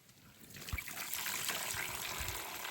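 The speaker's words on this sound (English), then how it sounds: "I'm just going to leave it to drain here" Water drains and trickles steadily from a soaked, dirty wool fleece lifted out of its soak, close up with a faint splash near the start and no voices.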